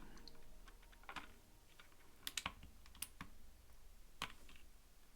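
Keys on a mechanical keyboard fitted with TX stabilisers are pressed in a loose typing pattern, giving close, sharp clacks and clicks spaced irregularly, with a few louder key strikes standing out and no voices.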